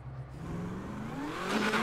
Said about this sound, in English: This truck loud as hell.